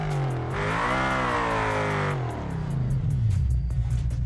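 A car engine in BeamNG revs up loudly, pitch climbing and holding for about two seconds before dropping back to a rough idle with faint rhythmic ticking, with no talk over it.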